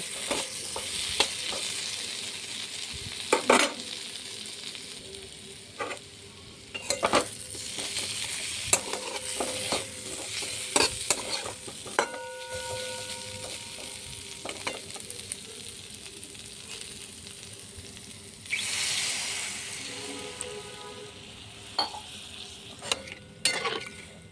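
Potatoes fry in a pan with cooked spice paste while being stirred, giving a continuous sizzle with frequent scraping and tapping of the spoon and occasional louder bursts of hiss.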